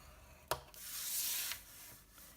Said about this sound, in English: So we are going to score at 1 inch on all 4 sides